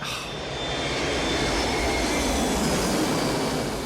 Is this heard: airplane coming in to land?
yes